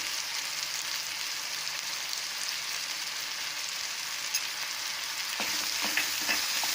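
Chilies, turmeric, red chili powder and salt sizzle loudly in a hot pan for a paneer kulcha filling: a dense, continuous frying crackle up close, with a few light clinks of a utensil near the end.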